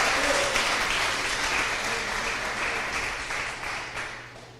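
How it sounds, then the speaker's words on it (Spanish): Church congregation applauding together during a Sunday sermon, a dense, steady wash of clapping that holds throughout and slowly fades toward the end, with some voices mixed in. "Pero fuerte, denle el aplauso al único que merece la gloria y la honra."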